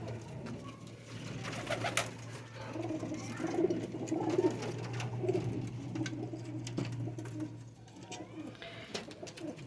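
Teddy and Ferozpuri cross pigeons coo in a loft, soft, overlapping throaty calls repeating close by over a constant low hum, with occasional rustles and taps.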